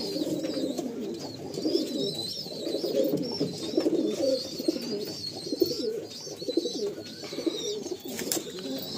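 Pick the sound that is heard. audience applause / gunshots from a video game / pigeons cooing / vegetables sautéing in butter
pigeons cooing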